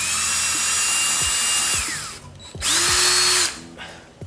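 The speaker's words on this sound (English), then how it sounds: "Now we'll take an 1/8 inch drill bit, center it on this hole that we have on the template, press it in, cross your fingers and drill through" A power drill with a 1/8 inch bit bores through a template hole on a motorcycle part, whining steadily, winding down, then spinning up again in a second shorter burst, close and loud.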